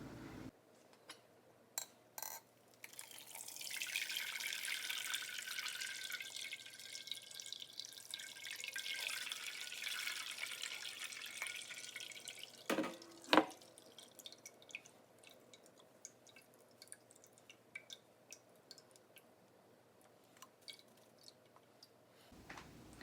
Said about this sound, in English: now I am just going to strain that mixture using the only colander that I have in my house, which is very small